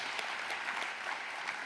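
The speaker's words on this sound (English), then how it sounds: "let's please give them a round of applause" Steady audience applause fills a conference welcome session after a Best Student Paper Award is announced, many hands clapping in a dense, even wash with no pause and no talking over it.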